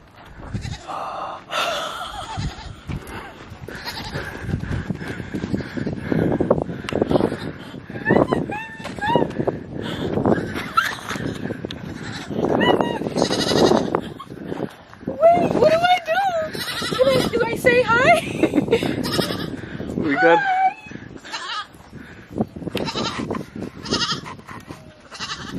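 Baby goats bleat repeatedly in wavering, high cries close to the microphone, overlapping with frequent excited talk and laughter from people nearby, with light wind noise outdoors.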